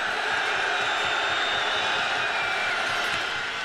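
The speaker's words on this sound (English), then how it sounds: "Crowd's getting into it now." Stadium crowd at a CFL football game between the Memphis Mad Dogs and Baltimore Stallions cheers in a steady, dense roar that holds at an even level throughout, with no clear voices standing out.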